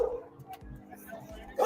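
A dog gives a few short barks and yips, with people talking and shouting around it during a tense confrontation.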